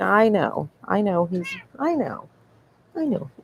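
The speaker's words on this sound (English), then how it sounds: "yeah, that's my cat" A pet cat meows four times at close range, each cry drawn out and wavering, separated by short pauses in a quiet room.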